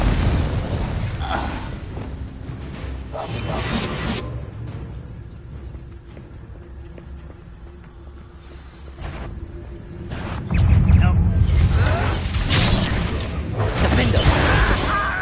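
Spells such as Incendio and Confringo cast in combat in Hogwarts Legacy, heard as loud booming bursts and whooshing blasts over a dense, continuous game soundscape, swelling near the end.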